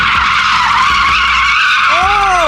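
Loud, sustained tire squeal from a drifting Tesla, the skid scraping on without a break and rising into a wavering pitch near the end.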